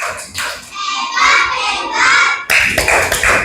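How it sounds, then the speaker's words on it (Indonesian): A class of children claps for group 5, a loud burst of quick hand claps that swells, breaks off briefly and then resumes, mixed with children's voices. "Oke, tepuk hebat buat kelompok 5."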